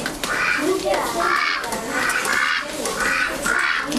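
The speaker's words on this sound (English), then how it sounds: "this is a Pekin duck" A white Pekin duck quacks in a repeated series of harsh, nasal calls, loud and close, with people talking in the background.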